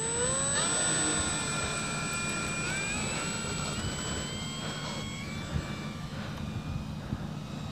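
Engine of a Hawker Hurricane IIc model aircraft droning steadily at high pitch as it takes off, loud and close at first, the whine shifting upward as the plane powers up and starts pulling away.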